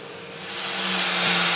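Wood lathe turning olive wood in reverse at about 450 RPM, a steady broadband whir with a low hum that swells slightly louder and holds, close and unbroken with no voices.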